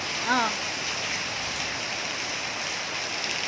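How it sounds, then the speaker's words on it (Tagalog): Heavy rain pours down steadily in a dense, even wash of noise; a brief voice rises near the start, then the downpour continues alone. "Kusog kayong ulan. Oh, ulan na gyud noon."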